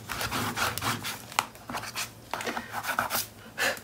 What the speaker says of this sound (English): I'm gonna burnish all that into place.